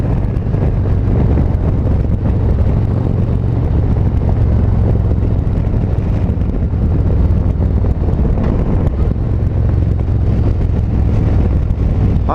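A 2019 Harley-Davidson Road Glide Special with a 114 engine heard while riding, a steady low rumbling drone under heavy, constant wind buffeting on the microphone.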